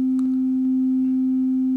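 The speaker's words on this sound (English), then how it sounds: "we're going to plug the even VCO's sine wave" A steady pure sine tone from an even VCO synthesizer module, loud, unbroken and unchanging in pitch throughout, with faint clicks in the background and no voices.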